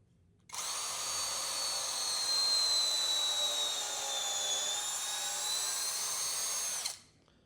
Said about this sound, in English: This is a very powerful drill